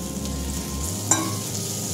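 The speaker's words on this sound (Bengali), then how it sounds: "চিংড়ি মাছটা এবার এর মধ্যে দিয়ে দিলাম।" Prawns hit hot oil in a pan already frying with onion, pumpkin and tomato, and a continuous close sizzle carries on around one sharp clank of a utensil, with no voices.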